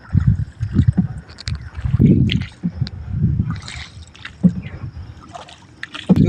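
A boat being paddled through water on a fishing outing, with repeated splashing, gurgling strokes and wet sloshing in an uneven rhythm, loud and close, with occasional voices in the background.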